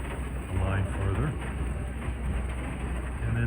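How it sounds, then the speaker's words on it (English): A train on Connecticut's Valley Railroad, hauled by locomotive 97, reverses slowly into a station, giving a steady low mechanical rumble with faint clanks throughout. "he's going to back into the station"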